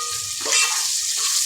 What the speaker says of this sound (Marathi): कांदा पण आपलं चांगलं परतवायचं आहे।